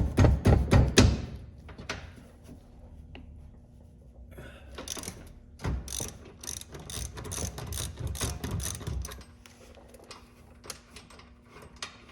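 An 18 mm bolt on a car's steering knuckle being loosened with a ratchet, heard as bursts of rapid clicking from the pawl, loud and close at the start, then quieter clicks and clanks of handling as the work continues.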